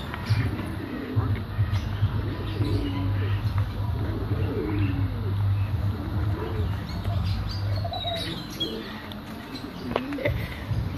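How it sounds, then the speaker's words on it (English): Birds calling at Hope Zoo in Jamaica, with a low steady cooing over a busy background of chirps and outdoor ambience, fairly close and continuous. "Right here we have some white-throated capuchin birds"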